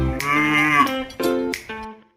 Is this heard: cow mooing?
yes